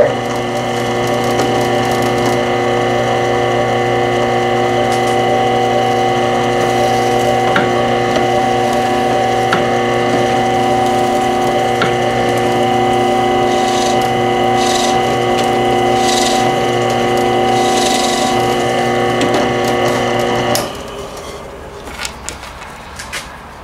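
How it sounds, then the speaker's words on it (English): A drill press bores holes in wood for cabinet and counter trim on a DIY travel trailer build. Its motor whines loud and steady, carrying a bright, harmonic hum for about twenty seconds before it winds down into quieter handling sounds. "now that we have all of our holes drilled"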